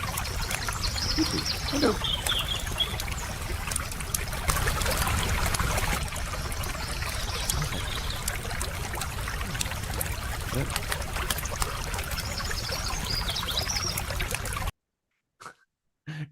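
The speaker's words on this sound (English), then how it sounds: "It's like a water, like a gentle, calming pond sound" Gentle, calming pond water ambience plays from YouTube as a steady, continuous trickling wash for most of the clip, then cuts off abruptly near the end; a voice briefly speaks over it.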